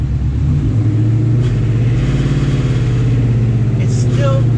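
Car engine held at high revs while checking for an exhaust rattle, a loud continuous droning hum close by with slight wavering pitch throughout.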